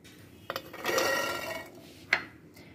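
Washed green peas poured into a mixer grinder jar, a short rattling rush of small items against the container, framed by a few light clinks nearby.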